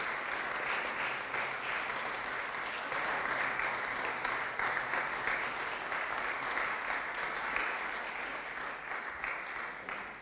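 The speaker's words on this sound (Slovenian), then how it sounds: "mislim, da ne bo nič narobe, če ga pospremimo še z enim aplavzom" An audience at a university rector's inauguration ceremony in Nova Gorica claps after a signing, sustained even applause from a large crowd lasting about ten seconds, fairly steady and moderately loud.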